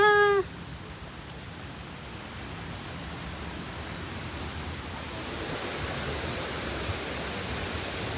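Ng Tung Chai waterfall in Hong Kong gives a steady, broadband rush of falling water that holds evenly throughout and swells slightly toward the end. A brief tonal chirp, like a bird call, opens the clip.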